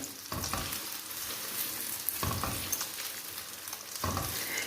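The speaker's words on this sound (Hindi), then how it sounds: "इस तरीके से हिलाते रहेंगे और इसे बनाते रहेंगे।" Eggs sizzling in a hot pan during a winter egg and pea recipe, with a steady frying hiss and three distinct scraping stirs of a spatula across the pan, close and clear without talk.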